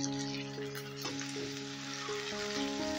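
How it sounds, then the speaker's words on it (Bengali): A ground paste of onion, ginger, garlic and green chilli fries with lightly browned onions in a pan for a lentil omelette curry, giving a steady close sizzle with a few stirring scrapes and no talking. "এই দেখো, পেঁয়াজটা আমি হালকা লাল করে ভেজে নিয়েছি। এবারে দিয়ে দিচ্ছি বাটা মশলা।"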